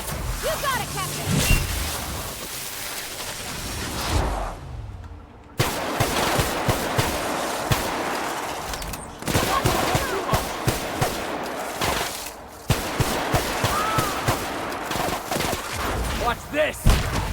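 Sustained gunfire in the video game The Outer Worlds: rapid automatic bursts and scattered shots with short pauses, loud and busy over background game noise, with voices shouting under it.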